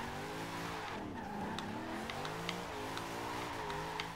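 Car tires squealing and skidding through a drift in Forza Horizon 2, a sustained screech layered over a revving engine whose pitch sweeps up and down, loud and close with no talk.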